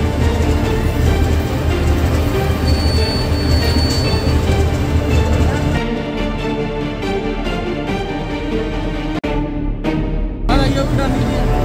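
A train at Sangrur railway station rumbling past with loud steady rolling noise and wheel squeal, fading toward the end, with voices faintly underneath.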